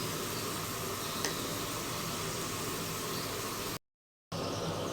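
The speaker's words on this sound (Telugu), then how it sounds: "ఇప్పుడు సాల్ట్ వేస్తున్నాను. చెంచాన సాల్ట్ వేసాను. పసుపు వేస్తున్నాను." A pan of crabs cooking in a home kitchen sizzles and fries steadily as salt and turmeric go in, a dense, even hiss with a faint stir, broken by a brief silence near the end.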